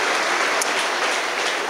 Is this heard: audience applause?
yes